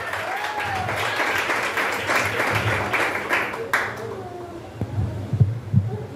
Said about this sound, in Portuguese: que mais palmas e glória a Deus.